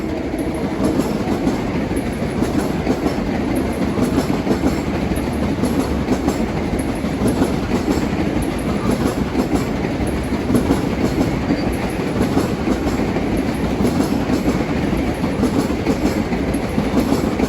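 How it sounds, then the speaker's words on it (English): Equipment train 4208 heading from West Side Yard to Hicksville rumbles steadily past the Mineola platform, a loud, sustained roar of wheels with rhythmic clickety-clack over rail joints throughout. "that was equipment train 4208 from West Side Yard to Hicksville"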